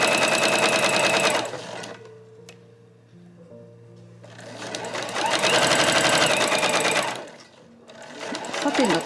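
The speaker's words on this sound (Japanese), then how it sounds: "今回使用するミシンは重機の家庭用ミシン" A Juki EX7 home sewing machine stitching fabric runs in two long, loud bursts of rapid mechanical needle clatter, separated by a quieter pause with faint handling noise, then starts again at the end.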